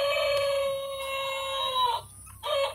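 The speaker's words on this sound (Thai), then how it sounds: "ตัวอะไรเอ่ยชิคเก้นไก่นั่นเองจ้า" A toy chicken gives a bright electronic clucking and alarm-like tone, steady and fairly close, with a brief break near the end before the sound resumes; no one speaks.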